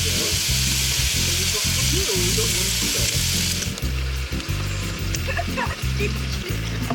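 Beef and tomatoes sizzle loudly in a frying pan at an outdoor camping festival, a constant crackling hiss broken by the scrape of stirring.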